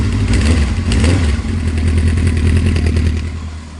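A 1978 Kawasaki KZ650-B2 motorcycle idles loud and close, a steady throbbing engine rumble with slight unevenness that eases off at the very end, with no one speaking.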